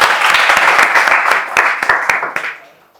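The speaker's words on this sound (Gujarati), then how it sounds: "ભાઈ તાળીઓ આપો એને બોલો" Audience applause from a crowd of students at a board-exam guidance session, dense clapping that holds steady for about two seconds and then tapers off, with no talking over it.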